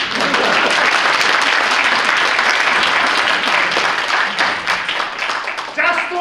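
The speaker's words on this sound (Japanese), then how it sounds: "拍手。" Steady applause from a wrestling event audience, dense clapping that holds at full loudness for about six seconds before thinning slightly near the end, with some voices mixed in.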